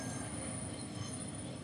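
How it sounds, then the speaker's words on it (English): A train rattles steadily along the tracks in London, a continuous low rumbling and clattering with faint wheel squeal, heard from inside the carriage with no talk. "Trains wobbling everywhere."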